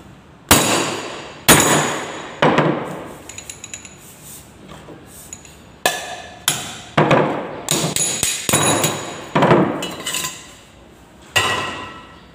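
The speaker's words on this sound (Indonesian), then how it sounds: "Kalau ini susah, kita bisa pakai pipa ini untuk mendorong. Kita palu." Metal clanks ring out as a hammer strikes a pipe used to drive a part of a Toyota Kijang four-speed manual transmission, coming in loud single blows and quick bursts of repeated taps with short pauses between.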